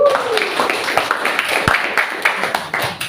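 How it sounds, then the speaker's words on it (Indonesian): A group in a classroom setting claps in a brief burst of applause, close and fairly loud, with voices heard over the clapping. "Kasih tepuk tangan dong."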